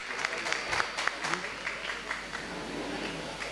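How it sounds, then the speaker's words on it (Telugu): Loud, steady applause from an audience honouring a poet at a classical dance festival in an auditorium, dense clapping sustained throughout without pause. "ఒకసారి గట్టిగా చప్పట్లు కవికి కూడా"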